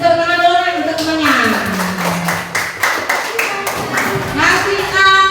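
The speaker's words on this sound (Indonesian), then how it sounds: "Kasih tepuk tangan dulu nak untuk temannya." Children in a classroom clap together for a classmate in a burst of rapid, close claps, mixed with kids' voices and sung or chanted tones.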